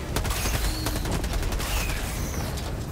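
Helldivers 2 machine gun fire pours out in a steady, dense stream of rapid shots, loud and continuous throughout, with no talk over it.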